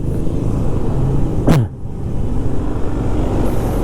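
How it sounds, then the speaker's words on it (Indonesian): A car driving close behind on Jalan Batu Bolong in Canggu, Bali, rumbles steadily and near, with a brief louder whoosh as it passes, then continues under steady traffic noise. "Ini mobil di belakang saya marah sekarang kalau jalan pelan-pelan gini"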